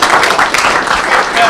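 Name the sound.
audience applause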